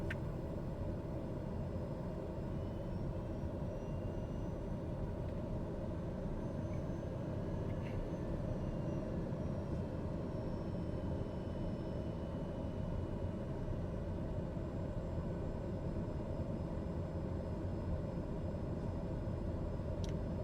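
A TBM 930 turboprop in Microsoft Flight Simulator 2024 holds a steady, broadband engine roar throughout its takeoff roll, with faint whining tones drifting overhead and no talk.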